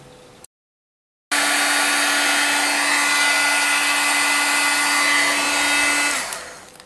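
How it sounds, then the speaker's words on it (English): A heat tool blows steadily to melt white embossing powder on a holiday sentiment stamp, a loud continuous whooshing hum with a brief cut near the start and a quick fade at the end, no voices. "I'll just emboss this Happy Holiday sentiment in white"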